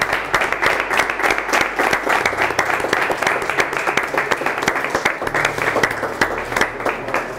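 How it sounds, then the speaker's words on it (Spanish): Applause breaks out among a gathered group during a visit celebrating a 1935 cup trophy, loud, close clapping with some distinct sharp claps, sustained throughout. "yo creo que esto merece un aplauso"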